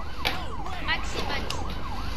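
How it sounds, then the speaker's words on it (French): Ambulance siren in the game GTA, a wailing rising-and-falling tone repeating several times over a low rumble, moderately close and steady. "Ah, je l'entends, elle arrive."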